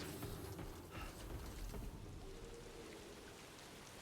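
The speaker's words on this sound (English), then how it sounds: "Is the timefall already starting?" Timefall rain in the video game Death Stranding falls as a steady, moderately quiet downpour, a dense patter that thins slightly toward the end.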